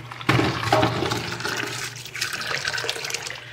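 Hot water gushes steadily from a tap into a container during a kitchen deep-clean, a loud continuous splashing and filling rush that runs throughout.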